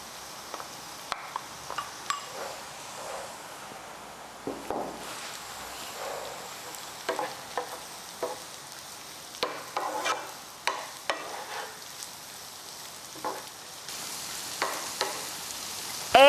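Chillies stir-fried in a pan with browning garlic and onions for a fried okra dish, giving intermittent scraping stirs over a soft sizzle, close and moderately loud with brief pauses.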